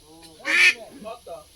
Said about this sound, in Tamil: பாய் வாத்து வாத்து.